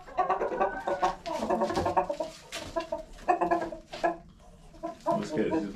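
Silkie chickens, a rooster and hens, cluck and murmur continuously nearby, a busy chorus of short clucks and squawks from several birds.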